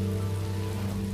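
Steady rain falls in Minecraft, an even, continuous patter heard alone over a low hum with no talking.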